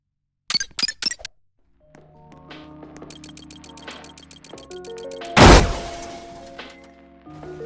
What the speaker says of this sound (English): we have the strongest firework in the world inside the washer